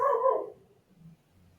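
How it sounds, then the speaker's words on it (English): A dog barks at a squirrel: one short, fairly close bark, then near silence with only faint low rustling. "my dog is probably barking It's at a okay. squirrel right now"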